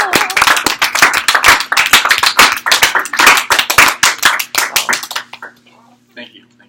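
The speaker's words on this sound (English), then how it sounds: "So everybody, let's give a huge clap." A small audience claps steadily for about five seconds, the bursts dense and close, then it fades to near silence with a faint voice at the end.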